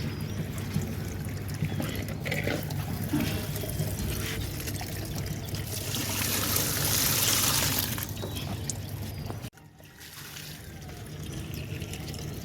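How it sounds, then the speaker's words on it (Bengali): Water gushing into a tank on a rooftop vegetable garden, a loud continuous rushing pour that swells briefly, cuts out abruptly for a moment, then resumes slightly quieter. "এই যে আওয়াজ হচ্ছে এটা ট্যাঙ্কে জল ভরছে"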